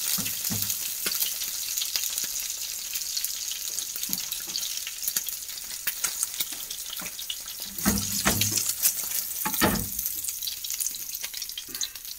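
Scrambled egg fries in a pan, giving a steady soft sizzle with scattered crackles and a few louder stirring scrapes, heard close with no talking.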